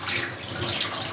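Tap water runs steadily into a sink, rinsing a removable part of a Panasonic NC-A57-K coffee maker, a continuous close rushing splash with no voices.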